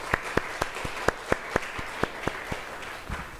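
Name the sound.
applause of glory to God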